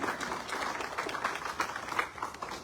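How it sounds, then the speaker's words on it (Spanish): Church congregation applauding, a dense steady patter of many hands clapping at moderate level for a few seconds, with no clear speech over it. "Un aplauso a Cristo Jesús."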